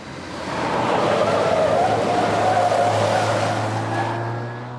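A Rover car drives through a corner with a sustained broad roar of engine and tyre noise swelling and fading over several seconds, fairly loud and close, with no talking.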